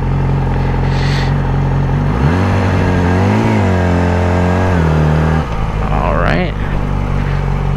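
A Yamaha R6 motorcycle engine runs loud and close in a long driveway, its tone swelling and dipping as the throttle is rolled on and off, then climbing sharply near the end.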